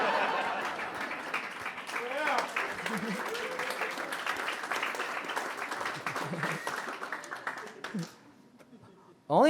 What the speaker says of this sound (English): Only in the South will people clap for that.